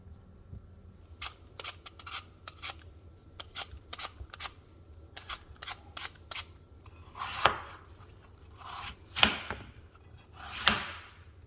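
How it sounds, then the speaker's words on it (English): Knife chopping apple fritter dough into small pieces, close and fairly crisp, with clusters of quick sharp cuts at first and then a few louder, spaced single chops. "you chop it up into little pieces"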